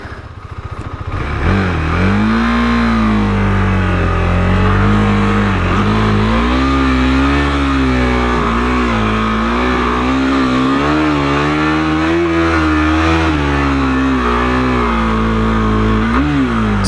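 A KTM 390 Adventure motorcycle engine revs hard and steadily while the rear wheel digs down through sand, the pitch wavering up and down over a sustained, loud, close drone.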